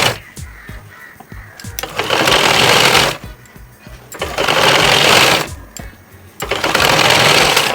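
A sewing machine stitches kurti fabric in three loud, rapid whirring bursts separated by short pauses, each run steady and close, with faint rustling of cloth between runs and no speech.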